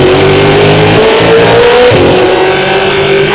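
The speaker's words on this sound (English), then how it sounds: "when I start accelerating, it just starts misfiring and it cuts power." A McLaren engine accelerating hard with a misfire that cuts power: a loud, steady, buzzing car engine note that wavers and briefly drops near the middle before carrying on, close and alone.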